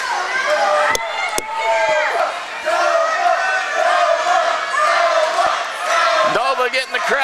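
A wrestling crowd cheers and shouts in an arena, loud and sustained, with sharp impact slams from the ring and a commentator talking over the noise.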